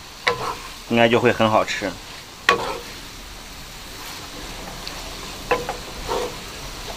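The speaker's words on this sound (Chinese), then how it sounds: "然后今天混合这个鸡汤汁儿，把它再一炒。" Dried green beans and pork stir-fry with chicken broth in a wok, a hissing sizzle with a few sharp utensil knocks, partly overlaid by a brief stretch of talk near the start.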